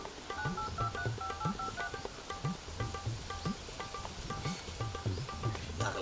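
A telephone number is keyed in: a quick run of short push-button dial tones beeps in irregular succession over six seconds, fairly faint, against a soft rustling, chirping outdoor background.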